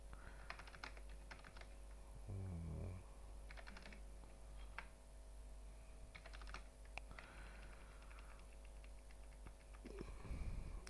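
Computer keyboard typing while entering prices into an Excel spreadsheet: quiet, irregular bursts of key clicks at close range over a steady background hum.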